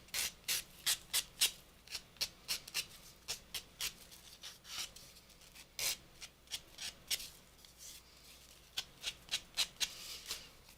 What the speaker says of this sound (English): Then you can come back and refine them with the sanding sponge or a nail file.